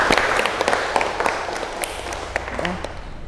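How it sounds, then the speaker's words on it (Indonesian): A classroom group claps for a classmate after a Quran tajwid lesson, a short burst of dense, lively applause close by that carries on steadily for a few seconds. "Aplaus untuk teman kita."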